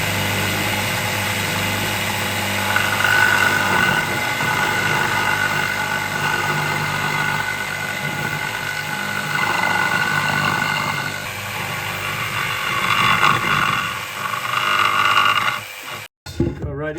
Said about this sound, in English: I'm gonna go ahead and use the jigsaw from the bottom so the tear goes down instead of up